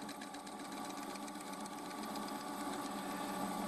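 A lathe machining a pulley puller part for a Toyota RAV4 gives a continuous, fairly quiet whirring and buzzing hum that holds steady throughout.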